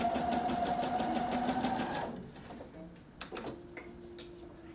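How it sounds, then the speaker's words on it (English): A sewing machine runs a belt loop stitch to close a seam along a chalked line, whirring steadily and loudly for about two seconds before stopping, followed by a few scattered clicks and handling taps. "I'm going to close that with a little belt loop stitch."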